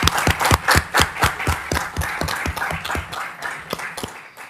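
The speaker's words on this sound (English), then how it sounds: "Indeed, I think it deserves a round of applause." In a city council chamber, a small group claps at a brisk, steady rhythm, each hand strike distinct and fairly close, thinning out and fading toward the end.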